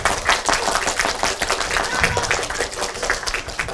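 Schoolchildren in a classroom clapping to vote for a contestant, a sustained lively patter of many hands at close range, steady and loud throughout, with faint voices mixed in beneath the clapping.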